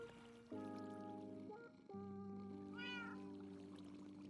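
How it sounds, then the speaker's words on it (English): A cat meows in the Minecraft video game, one short rising-falling call near the three-second mark, faint against steady layered background music that plays throughout. "Oh, I gotta feed a cat."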